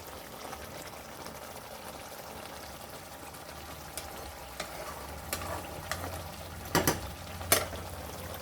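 Pabda fish curry fries in a pan while being stirred, a quiet steady sizzle with occasional soft scrapes and a couple of louder clinks near the end.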